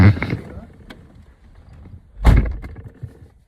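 A Ford Ranger pickup's doors slam shut, one soft thud at the very start and a heavier, louder close about two seconds later, heard up close.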